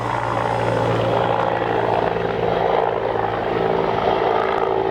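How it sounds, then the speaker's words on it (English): A helicopter flies close by, believed to be moving PG&E utility poles; its steady, loud rotor and engine roar fills the whole stretch without letup and without speech. "Maybe we'll just let you enjoy the ASMR of the helicopter."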